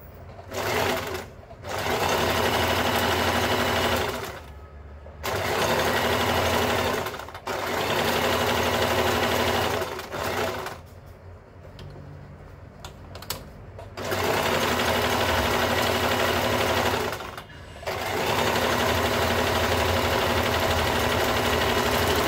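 A sewing machine stitches a petal cut from a reused blouse piece, running in several bursts of a few seconds each with short pauses between, close and steady with a rattling mechanical whir.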